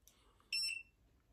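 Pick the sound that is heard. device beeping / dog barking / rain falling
device beeping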